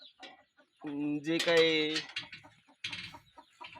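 Hens cluck nearby on a small poultry farm whose flock was hit by Ranikhet disease, with a short cluster of calls and a few softer clucks while a person speaks faintly.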